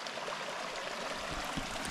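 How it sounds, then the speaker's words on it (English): Water streams and splashes steadily down rocks beside a remote desert hiking trail in southwestern Utah, a continuous close broadband rush with a slightly stronger gurgle near the end. "That's a lot of water coming down."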